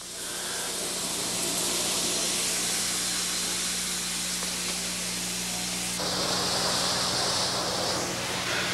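Steam locomotive 6060 being lit up, giving off a loud, continuous roaring hiss of steam that shifts brighter partway through and holds steady throughout.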